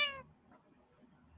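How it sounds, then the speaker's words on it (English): A cat gives a single short, close, clear meow at the very start, followed by quiet low room noise. "Oh, do you hear Daisy purring? Meow."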